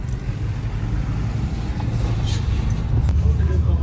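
An off-road race vehicle rumbles steadily as it drives out, its low engine drone continuous and fairly loud throughout, with people talking over it.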